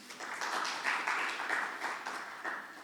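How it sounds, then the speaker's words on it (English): Applause from an audience at a formal event, a steady, moderately quiet wash of clapping that holds evenly for about three seconds with no voices on top. "please give her a big round of applause."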